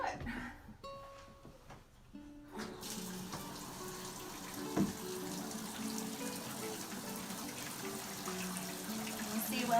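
Water runs and gushes over a child's hair to soak it, a steady, close, wet rushing that starts after a brief quieter moment, with faint voices now and then.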